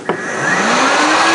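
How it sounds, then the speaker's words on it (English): Hair dryer running at full power from a 2000 W LiFePO4 portable power station, a loud close roar that kicks on abruptly and ramps up with a rising motor whine, steady and alone. "We're going to go all the way up on the hair dryer."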